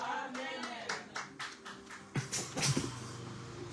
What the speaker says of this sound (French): Applaudis pour la parole de Dieu.